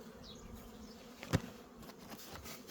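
Honeybees hum in a hive after wintering, a steady, faint buzz, with a single sharp tap breaking through midway.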